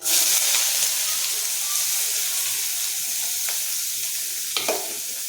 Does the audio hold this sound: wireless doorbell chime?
no